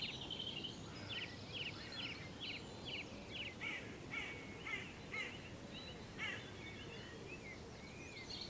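Harsh crow caws repeat in quick runs over a steady, noisy outdoor background in spring; several birds seem to call at moderate distance near bait.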